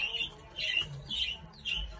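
Pigeon calls from a stray bird inside a cage, several soft separate coos repeating at a loose, even rhythm, faint and close with quiet gaps between them.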